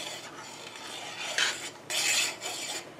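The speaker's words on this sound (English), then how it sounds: "Alright, so it's to a rolling boil again." Pepper jelly at a rolling boil in a pot gives a soft, frothy bubbling hiss that swells and fades across a few seconds, heard up close with no talking.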